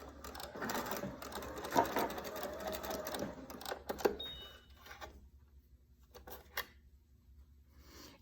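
A sewing machine runs steadily, stitching across a French seam in cloth, close and alone for about four seconds before slowing and stopping, with a few faint clicks afterward.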